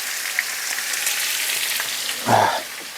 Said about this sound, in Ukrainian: Аж кварчі. Помідорчики.